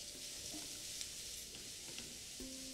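Onion sizzles quietly in a pan while being stirred, a soft steady frying hiss with a few faint scrapes and taps, no voices.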